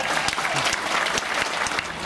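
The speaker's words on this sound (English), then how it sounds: "Give them a round of applause as well." A moderately distant audience gives a steady round of applause, a soft, dense patter of many hands lasting a couple of seconds.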